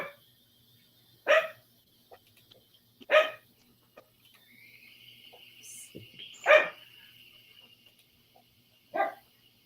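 Dogs bark outdoors on a windy day, four loud, separate barks spaced a couple of seconds apart over near silence, with a faint high whine between them.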